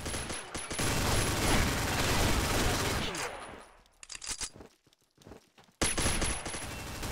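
Dense, loud automatic gunfire in the online shooter Combat Arms, sustained rapid bursts that break off into scattered shots and silence, then resume abruptly, with little talk.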